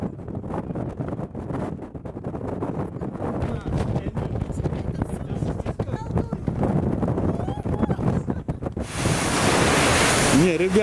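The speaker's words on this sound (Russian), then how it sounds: "серьезный ветер, вообще ужасный просто" Heavy wind roars and buffets the microphone continuously at the port in Hamburg, rising to a harsh rushing blast near the end, with surf-like noise and voices underneath.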